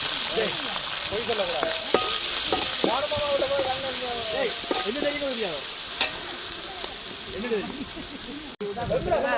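Fish and curry leaves sizzle steadily in a pan at a village cookout, a continuous frying hiss with stirring scrapes, while people talk over it throughout.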